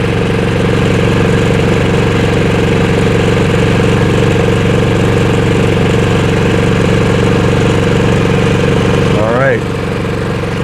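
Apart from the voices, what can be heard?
EcoFlow dual fuel generator running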